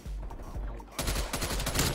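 Rapid gunshots from a burst-fire weapon in Call of Duty: Black Ops Cold War, with a quick cluster of sharp, close shots, then a louder, denser volley of overlapping cracks in the second half.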